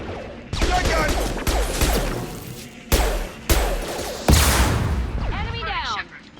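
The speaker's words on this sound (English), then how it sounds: "Shotgun!" Shotgun blasts in Mass Effect 2 Legendary Edition: several sharp, loud booming shots at irregular intervals amid ongoing combat noise, with voices speaking over the firefight.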